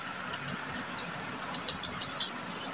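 A small pet parrot chirps during feeding, giving short, sharp high tweets in a few quick clusters, close by and fairly clear over a quiet room.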